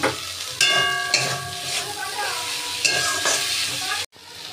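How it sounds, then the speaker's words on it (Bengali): Malabar spinach (pui metuli) being stirred into fried spice paste in a pan gives a loud, close, continuous sizzle with scraping spatula strokes and a few clinks, cutting off abruptly near the end. "এগুলো দিয়ে ভালো করে নেড়ে নেব"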